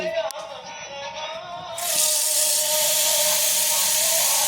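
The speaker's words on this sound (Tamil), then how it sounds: "இட்லி பாத்திரத்துக்கு தண்ணி பொடி." Tap water gushes steadily into an idli steamer pot in a home kitchen while pearl millet idlis are being made, a loud continuous splashing stream that starts abruptly and keeps running without talk.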